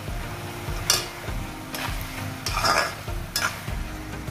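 Lauki bharta ingredients with red chilli powder roasting in a kadhai, a spoon scraping and stirring in repeated strokes over a steady sizzle, close and fairly loud.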